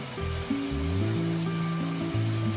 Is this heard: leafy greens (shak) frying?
no